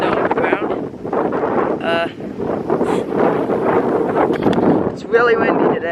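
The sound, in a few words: strong wind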